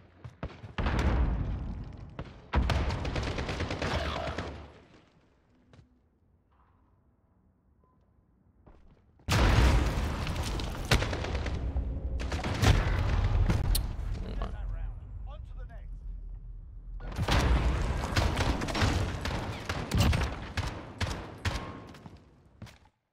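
AK rifle fire in Call of Duty Modern Warfare 2v2 match: several bursts of rapid automatic gunshots separated by quieter gaps, loud and close, with a voice talking between them.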